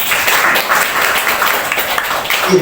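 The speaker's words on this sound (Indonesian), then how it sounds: "Tepuk tangan dulu semuanya." An audience at an indoor parenting seminar claps together in a short burst of steady, close applause.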